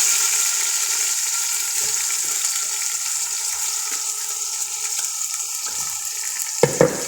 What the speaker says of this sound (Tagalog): Lagay naman natin yung chicken.